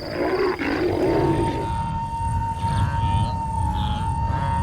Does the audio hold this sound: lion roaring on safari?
yes